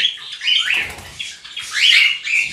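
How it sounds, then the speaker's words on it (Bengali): Cockatiels at a breeding setup give shrill, rising whistled calls in several bursts, loud and close with brief pauses between them. "দারুণ দারুণ কোয়ালিটির পাখি, বাটারফ্লাই টাইপের ককটেল আছে"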